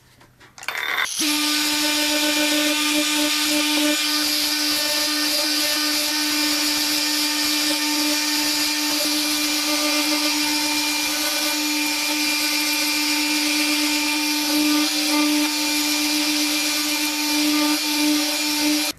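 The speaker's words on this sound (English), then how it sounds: "Just going to blend off some of this paint so I can just refinish these little chips." A power tool runs steadily for about eighteen seconds, a loud high tonal whine with a strong hum, sanding and blending paint chips on the casing of a £25,000 Tom Evans Mastergroove SR mkIII preamp during refinishing.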